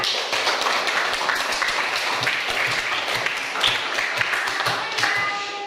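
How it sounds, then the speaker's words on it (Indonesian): A classroom of students claps together for classmates during an Indonesian language lesson, a brisk, uneven patter of many hands that continues steadily throughout. "Boleh kasih tepuk tangan"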